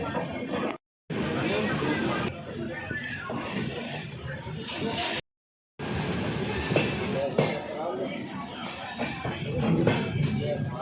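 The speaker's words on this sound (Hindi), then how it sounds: "2 मिनट के होल्ट के बाद डिपार्चर होती हुई रुड़की से उदयपुर इंटरसिटी।" The Udaipur City Express intercity train departs Roorkee station after a two-minute halt, with continuous rumbling wheels and rail noise, brief gaps, and people chattering nearby.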